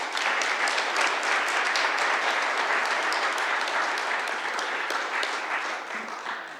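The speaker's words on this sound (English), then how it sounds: "Please give John Murrie a round of applause." A large audience at an awards ceremony applauds an honoree, producing a continuous, even wash of clapping that holds steady before easing off slightly at the end.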